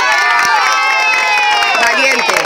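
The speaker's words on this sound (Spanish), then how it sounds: "¡Un aplauso!" A crowd at a Venezuelan street rally cheers and shouts loudly, a dense roar of voices with chanting tones and some clapping, sustained and close throughout.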